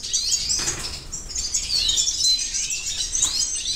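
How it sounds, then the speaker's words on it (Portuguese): Venezuelan siskin chicks and adult birds in a breeding cage chirp and twitter continuously, a dense, close, high-pitched chatter with brief wing flutters throughout and no voices. "Olha aqui, filhotes, para você que nunca viu, de tarim da Venezuela"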